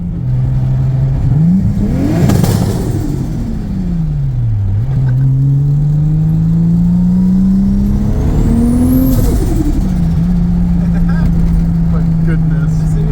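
An RB25-swapped Nissan 240SX with a big turbo accelerates hard, its loud engine tone sweeping up through the gears, with turbo whine rising and falling, wind and road roar, and a brief shift between pulls.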